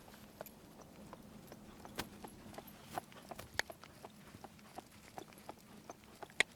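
A horse walking in an arena, its hooves giving soft, steady, evenly spaced thuds at a moderate distance, with a few sharper clicks over a quiet background.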